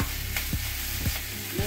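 Spinach with garam masala stirred in a frying pan, a steady close sizzle broken by three or four quick spatula scrapes, with no voices.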